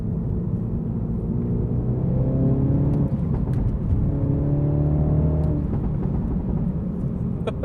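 A stage 1 MINI F54 Clubman Cooper S/JCW with an 8-speed gearbox drones loudly from inside the cabin as it is thrown through a corner, its engine rising and falling, with a few faint sharp exhaust crackles.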